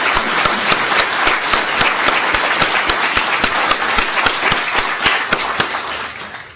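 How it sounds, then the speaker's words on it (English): A school board meeting audience gives a loud, sustained round of applause, with dense, even clapping filling the room for several seconds before starting to taper. "And how about giving a special round of applause for those?"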